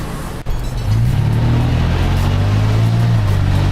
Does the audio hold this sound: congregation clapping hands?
no